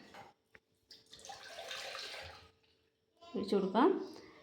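A strained liquid mixture for a homemade skin cream is poured into a container, a soft splashing trickle that runs for about two seconds, then a second gurgling pour, with brief talk between.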